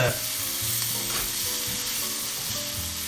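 Philly cheesesteak meat sizzles loudly in a hot pan, a dense, constant crackle of frying with faint clinks of stirring running through it, close and unbroken, with no talking.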